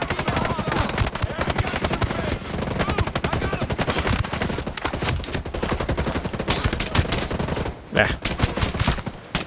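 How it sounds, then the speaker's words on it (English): Dense, continuous automatic gunfire from the video game Ghost Recon Breakpoint, loud rapid bursts filling the whole stretch with a brief lull near the end and a short voice exclamation. "Especially when I'm shooting, you know, like a mile over his head"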